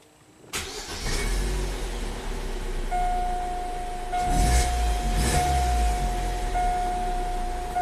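A Vauxhall Astra engine with VVT solenoid and O2 sensor faults cranks and fires with a sudden roar, then settles into a steady idle rumble, close by with a faint whine.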